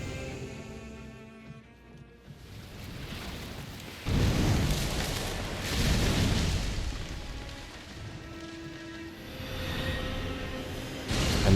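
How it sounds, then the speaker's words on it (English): A boss explosion attack in Elden Ring Shadow of the Erdtree, in the Shadow Keep, erupts in heavy rumbling booms: a big burst around the middle, a second swell soon after and another blast at the end, over continuous game ambience. "for phase 3 we want to watch out for that explosion the second it spawns"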